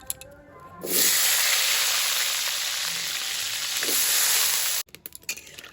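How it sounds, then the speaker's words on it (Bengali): Potatoes frying in a pan of hot oil in a home kitchen, a loud steady sizzle that starts suddenly and holds for about four seconds, then cuts off into a few faint clatters. "আলুটা ভেজে নিয়ে জল দিয়ে দিলাম"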